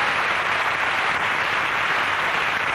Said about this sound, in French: On applaudit Daniel Herzog